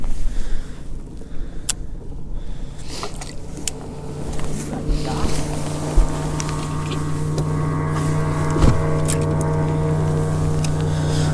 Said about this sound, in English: We got another boat coming